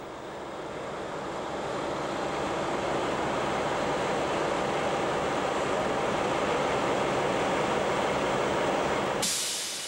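A 1968 WFL diesel locomotive, Lok 20, runs by with a steady broad rumble and rushing roar that swells and holds, fairly loud and unbroken.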